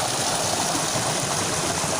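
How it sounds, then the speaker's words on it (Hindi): Water gushes steadily and loudly from a solar-powered tubewell, a dense continuous rushing with no pauses and no voices. "ये पानी जा रहा है"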